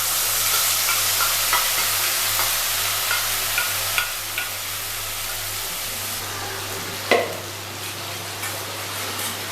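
Paste of onion, tomato and dry chili spits and sizzles in hot oil, a dense steady frying hiss with periodic spatula scrapes and one sharper clatter late on.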